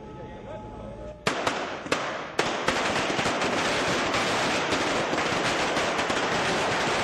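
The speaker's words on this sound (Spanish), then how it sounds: "La bancada líder salió a quemar cohetes." A rapid string of firecrackers goes off in celebration of a congressional vote, a few sharp bangs first, then a dense continuous crackling burst that keeps popping loudly.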